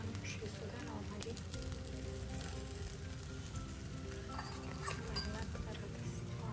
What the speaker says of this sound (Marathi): पराठ्याला ताराला टाकलं आहे, आता याला छान शिजू द्या.